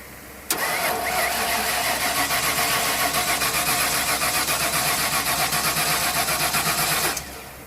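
An old full-size Ford Bronco engine cranks steadily for about seven seconds, a rapid rhythmic churning starter sound that never catches, then stops abruptly.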